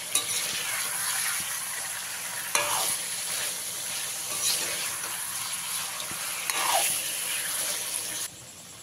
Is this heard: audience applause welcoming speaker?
no